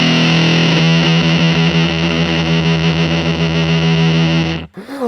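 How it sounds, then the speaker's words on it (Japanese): New York Fuzz preset on a ZOOM MS-50G+ multi-effects pedal: a loud, thick, heavily fuzzed electric guitar chord rings and sustains for several seconds, then cuts off abruptly near the end. "ファズですね。 バヒャーンって歪むやつ。"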